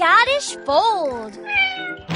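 A cartoon cat, a Scottish Fold in a children's puzzle game, gives a loud, clear meow with rising and falling pitch, followed by a second shorter meow.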